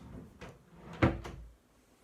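A cabinet door is fitted into handmade wooden storage steps: a few soft wooden knocks, then one sharper thud as it seats, close by and fairly quiet, followed by silence.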